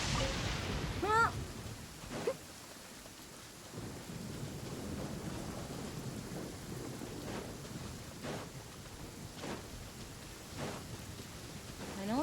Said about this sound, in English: I know I gotta go, but it's raining.